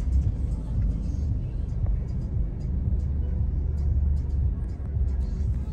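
A car pulls in to park at a post office in Jakarta, a steady low engine rumble running throughout with faint clicks and road noise around it.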